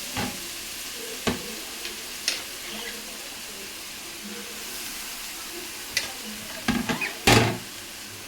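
Carrots fry in sesame oil in a pan, a soft continuous sizzle broken by a few sharp clacks of a utensil against the pan.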